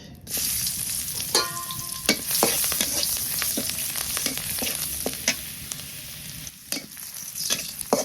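Chopped onion hits hot oil in a frying pan just after fish has been fried, giving a steady loud sizzle with clicking stirs and scraping throughout, no voices.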